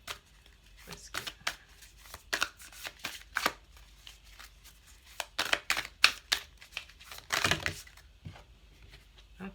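A deck of tarot cards is shuffled by hand nearby in repeated crisp riffling and flicking bursts, irregularly spaced, with quiet gaps between them.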